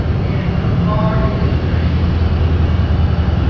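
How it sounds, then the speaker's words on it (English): Steady low rumble of a San Diego MTS local transit train running along the tracks, loud and continuous, with a brief faint tonal whine partway through. "So this is the MTS, Metropolitan Transit System of San Diego. It's a little local train."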